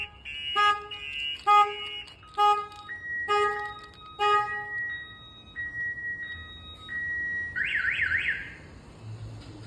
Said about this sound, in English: Not only one siren's gonna go off, but you're gonna have the horn go off